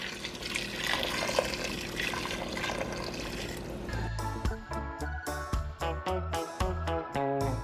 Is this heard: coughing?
no